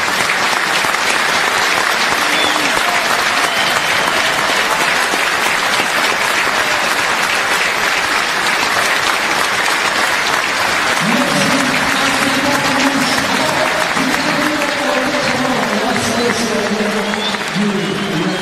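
Rugby stadium crowd at a Pro D2 final applauding steadily in tribute, dense sustained clapping from thousands, while a commentator talks over it in the second half.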